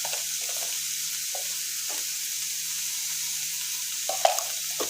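Chicken momo filling stirred as it fries in a pan with soy sauce, salt and pepper, a steady hiss of sizzling with occasional soft scrapes of the spoon, close and continuous.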